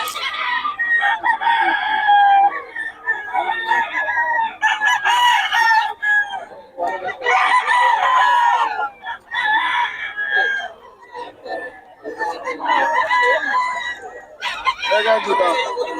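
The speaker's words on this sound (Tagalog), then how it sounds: "Solid mga manok ni Boss Joe" Roosters from a farm crow repeatedly with loud, overlapping calls and scattered clucking, nearly continuous throughout, while someone talks over them.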